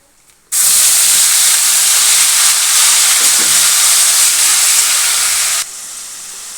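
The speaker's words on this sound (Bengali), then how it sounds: "এবার পেঁয়াজ বাটাটা আমি ওর মধ্যে দিয়ে দেবো, ফোড়নের মধ্যে।" Onion paste dropped into hot oil tempered with nigella seeds for a pabda fish curry bursts into a loud, bright sizzle that holds steady for about five seconds before cutting off.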